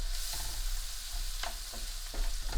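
Cumin seeds (jeera), about a teaspoon, fry in a pan with a steady close-up sizzling hiss, broken by a few soft scrapes and taps as they are stirred.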